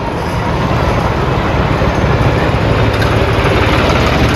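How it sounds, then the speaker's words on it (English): A tractor-pulled train passes in High Park, Toronto, as a loud, close, continuous engine rumble and rolling drone that holds steady throughout without a break. "Looks like they still have the tractor train in High Park."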